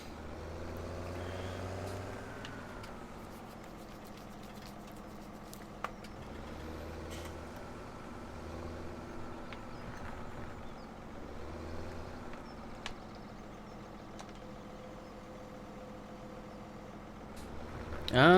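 Tractor in Farming Simulator 17 pulling a modded chisel plow with a front weight, a steady low engine drone rising and falling in pitch over a long continuous pass, with faint voice in the background.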